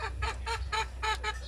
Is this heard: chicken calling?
yes